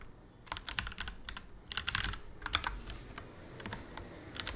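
Rapid keystrokes on a computer keyboard while entering values into a Python trigonometry program, clicking in quick irregular bursts at close range with no talking.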